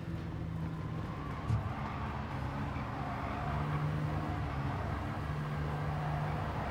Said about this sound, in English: The sound is very calm on this car